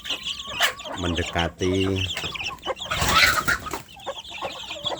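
Free-range village chicks cluck and peep close by as they gather at their soft feed, short bursts of calls mixed with someone talking over them.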